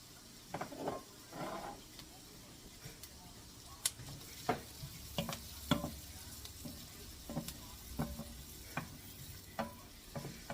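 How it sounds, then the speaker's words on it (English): Onions and garlic fry in a pot for ground beef stroganoff, with a steady close sizzle broken by repeated scraping and clattering stirs. "The smell of onions cooking and the smell of garlic cooking"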